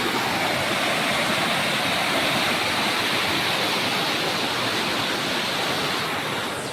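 Overflowing Malan river at Mahuva after heavy rain, its water rushing in a steady, loud, dense roar that holds unbroken throughout with no voices.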